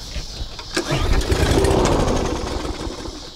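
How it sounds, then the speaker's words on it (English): A push lawn mower engine is pull-started after fuel is added to the carburetor; it gives a loud, close, sputtering rumble that swells and then fades without fully catching. "we're gonna try pull start and see if it does anything"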